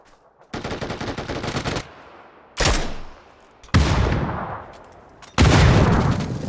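Several loud bursts of rapid machine-gun fire in PUBG, each a second or more long with pauses between, ringing out close and alone.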